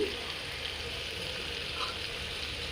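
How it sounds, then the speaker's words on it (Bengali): Soybean chunks fry in hot oil for a vegetarian pointed-gourd dolma, producing a continuous, even sizzle close to the pan with a faint underlying rumble, unbroken throughout. "তেলের মধ্যে সয়াবিনটা ছেড়ে দিয়েছি, এবার সয়াবিনটা একটু ভাজা হোক।"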